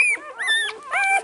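Newborn puppies, barely two days old, whimper and squeal in high, wavering cries, three short calls close by with no talk.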